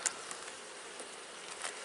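Honey bees buzzing around a hive frame while a beekeeper works a strong colony with a fume board, a faint, steady insect hum with a few individual bees droning close by.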